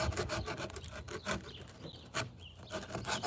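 A metal file wrapped in sandpaper rubs back and forth in tight places during a van conversion, quick rasping strokes in an irregular rhythm, close and fairly quiet.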